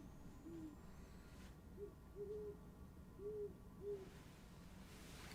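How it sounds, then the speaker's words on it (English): An owl outside an office hoots faintly in short, evenly spaced calls, four or five soft hoots heard through a wall over a steady low hum. "If you guys can hear the owl, I'm terribly sorry. We've got an owl outside my office."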